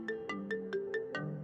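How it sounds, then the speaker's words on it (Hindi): Phone ringtone for an incoming call: six evenly spaced bright chime pulses over a steady tonal melody, clear and fairly close, no voices. "इसी बीच राहुल की गर्लफ्रेंड का फोन आता है।"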